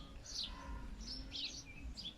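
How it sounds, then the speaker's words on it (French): Birds singing outdoors, several bright chirps and short tweeting phrases scattered over a quiet, soft background, fairly near and clear. "Écoute le chant des oiseaux."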